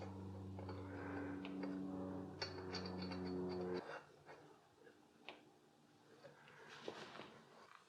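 A ratchet snugging the crankshaft vibration damper bolts on a Mercedes 560SL, soft rapid clicking under a steady low hum, with scattered metallic taps after the hum stops.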